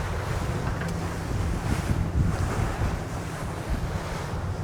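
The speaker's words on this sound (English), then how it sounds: "And these waves are big." Big ocean waves and strong wind at sea from a stone crabbing boat, a loud continuous rushing wash with gusting wind noise buffeting the microphone and no talk.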